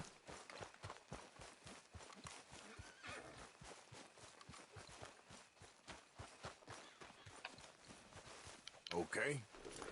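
Horse hooves in Red Dead Redemption 2 clip-clop at a steady walking pace, close and continuous, with occasional whinnies and a voice talking over them.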